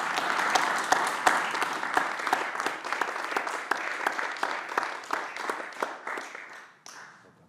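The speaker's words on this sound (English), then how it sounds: "give a big round of applause to my three panelists" Crowd at a business summit applauding three panelists, a sustained burst of many hands clapping with a few sharp, prominent claps near the front, fading out toward the end.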